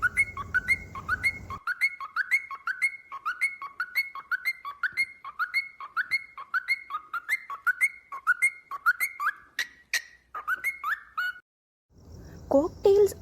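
Cockatiel whistling a repeated melodic phrase over and over in quick rhythm, clear and close, with a few short chirps near the end and brief background noise at start and finish.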